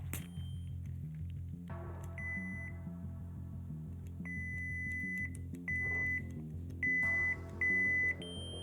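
Theory Sabers A05 lightsaber on a standard Proffie board, sound font played at maximum volume: a steady low electronic hum broken by several sharp, clear high-pitched beeping tones and clash-like bursts, loud and close, with no talking.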